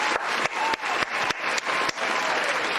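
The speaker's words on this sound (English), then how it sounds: "Another applause for your High Priestess of Bakery" An audience at a Halloween bake-off gives steady, moderately close applause to the crowned baking winner, continuous clapping with brief dips.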